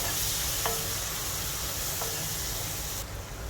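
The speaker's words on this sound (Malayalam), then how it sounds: "ഇപ്പോൾ നന്നായി നമുക്ക് സോട്ട് ചെയ്യാം" Chicken biryani masala sautéing in a pan, a steady close sizzle with a couple of soft scraping stirs, continuous throughout with no talking.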